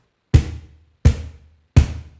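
Low bass tones played on a cajon during a samba lesson: three deep, booming thumps at an even, unhurried pace, each with a short resonant decay, close and alone.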